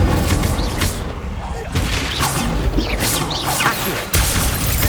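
An Incendio fire spell cast in Hogwarts Legacy, a dense crackling, roaring burst with thumping impacts over a constant loud battle din, and a voice speaking amid the noise.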